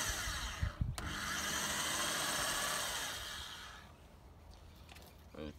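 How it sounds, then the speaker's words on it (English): A power drill boring the first hole through a flexible fender flare on a vehicle, a sustained whirring run of about three seconds after a brief bump, then winding down into quiet. "we'll put in the first hole with the drill"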